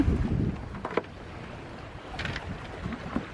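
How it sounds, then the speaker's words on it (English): Sailboat under sail in wind funneling between two islands, with soft wind rush over the microphone, gentle water wash against the hull and a few brief creaks and knocks, no voices. "We've actually got some wind funneling between these two islands here, so we're sailing"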